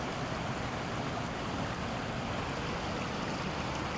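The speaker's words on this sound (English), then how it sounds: "The only thing you hear, it's the waterfall." A steady, even rush of falling water roars without a break, filling the whole clip.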